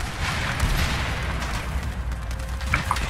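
Gunfire in Battlefield 4 on the Guilin Peaks map, with rapid shots and booming blasts rolling over a constant low rumble, loud and close, punctuated by sharper cracks near the end.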